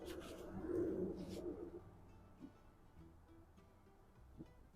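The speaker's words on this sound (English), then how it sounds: "Small birds." Small birds call faintly in quiet outdoor woodland, soft cooing and brief chirps scattered over a few seconds.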